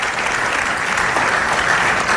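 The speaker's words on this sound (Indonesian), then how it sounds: "Tepuk tangan." Dense, even applause from a TV talk-show studio audience, a steady wash of clapping with no pauses over a couple of seconds.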